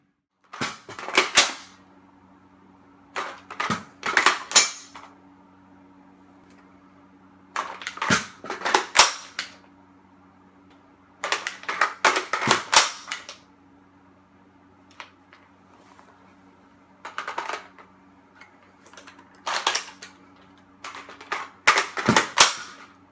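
Rifle reloads on an X95, XCR-L and VZ58 arrive as sharp metallic clacks and clicks in spaced bursts, each cluster of snaps separated by quiet pauses against a low steady hum, with no voices.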